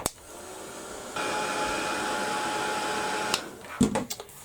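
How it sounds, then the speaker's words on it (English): A heat gun drying a mixed media steampunk canvas blows in a steady, close whirring drone that steps up louder partway through. It ends with a click as it shuts off, followed by a few handling knocks. "can get this dried now with the heat gun"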